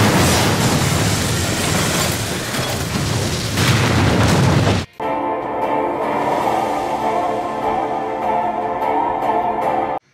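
A crystal core cannon goes off in the Final Fantasy Brave Exvius video game: a loud, rumbling blast roars for about five seconds, then cuts abruptly to a lower, droning ringing tail that holds until the end.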